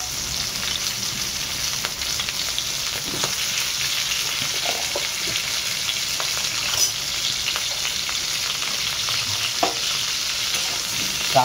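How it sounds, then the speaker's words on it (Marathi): Onion frying in a pan after cashews, for a paneer mushroom masala, a continuous close hiss of sizzling oil with faint crackles and occasional stirring taps, no voices. "त्यानंतर आपण कांदा थोडा भाजून घेऊया"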